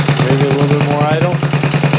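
A motorcycle rebuilt from a pile of parts idles with the choke on, a loud, close, rapid and even chugging beat holding steady throughout.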